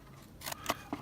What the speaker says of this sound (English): getting my paper snips, I cut up the score lines here and just notch out